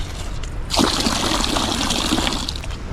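Water runs steadily from a roadside drinking water tank, a continuous close splashing trickle that starts abruptly and keeps flowing.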